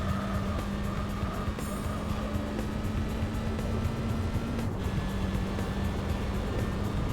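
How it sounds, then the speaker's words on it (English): A car engine in Gran Turismo 4 drones steadily throughout, a constant buzzing hum at even volume with faint tonal whine, no voices over it. "I absolutely hate the engine noise."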